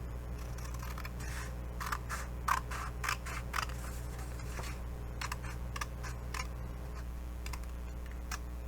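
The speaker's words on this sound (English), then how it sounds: "we are going to cut right at that score line" Scissors cut through cardstock along a score line, a series of crisp, close snips in an irregular rhythm with short pauses between cuts, alone without speech.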